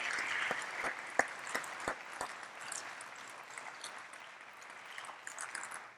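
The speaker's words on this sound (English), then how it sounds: "Let's give them a round of applause" Modest applause from an award ceremony audience at a game developer expo, a quiet patter of scattered claps with a few sharp distinct hand claps standing out, fading slightly over several seconds.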